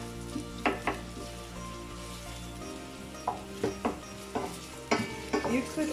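Onions and dried chilies cooking in a pan for a bhaji and potato curry, a steady low sizzle broken by several sharp stirring scrapes and clinks, close and moderately loud, with no talking.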